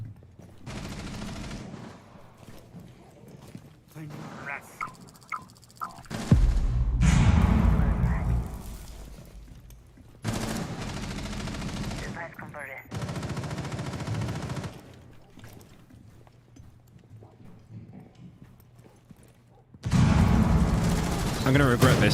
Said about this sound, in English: Can't you crack Mira's shield if you shoot it enough